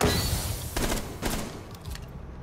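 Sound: gunfire in a video game

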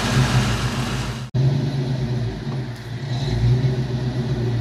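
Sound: 1989 Ford Mustang 5.0 trying to drive off

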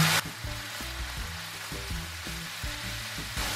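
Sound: shrimp frying in a pan

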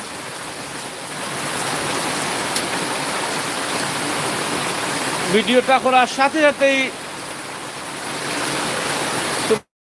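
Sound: heavy rain falling

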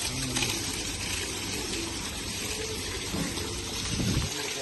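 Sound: pouring water

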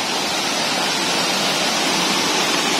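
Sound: small waterfall in the forest, Doi Inthanon National Park

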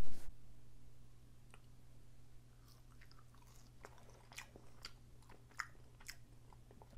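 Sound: eating French fries dipped in tangy barbecue sauce

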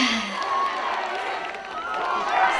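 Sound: audience cheering and applauding at concert

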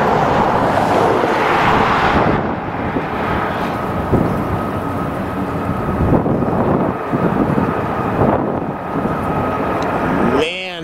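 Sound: strong wind blowing at airport plane spotting spot

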